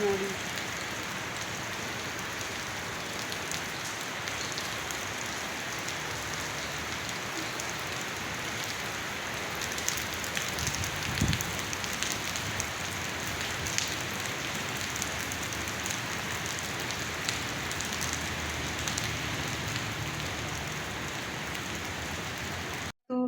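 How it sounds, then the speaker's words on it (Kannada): Steady rain falls throughout, a dense even patter on surfaces that stays loud and constant with no pauses. "ಮಳೆ ಮಳೆ"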